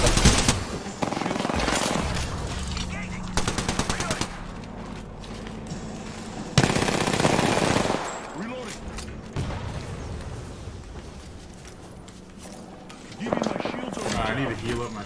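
Rapid automatic gunfire and heavy bursts from Apex Legends combat, loud and sustained in long rattling volleys with brief lulls, while a player talks over the shooting.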